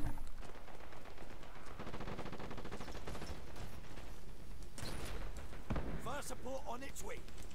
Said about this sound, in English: Oh no, that's an airstrike.